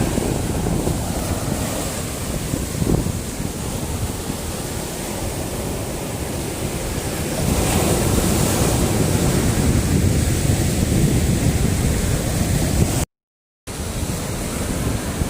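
Broad, steady rush of sea waves and strong wind at Samila Beach in Songkhla, with gusty buffeting on the microphone and surf swelling louder partway through, briefly cut to silence near the end.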